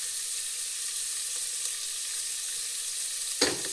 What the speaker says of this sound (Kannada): ಹುರುಳಿಕಾಳನ್ನು ಹಾಕಿ ಒಂದು ರೌಂಡ್ ಚೆನ್ನಾಗಿ ಫ್ರೈ ಮಾಡ್ಕೊಳ್ಳಿ